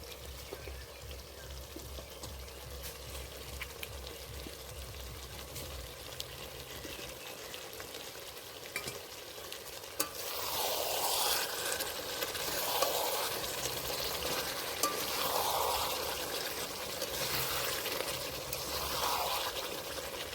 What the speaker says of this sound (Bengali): বন্ধুরা এবার ভেজে রাখা আলুগুলো দিয়ে দেবো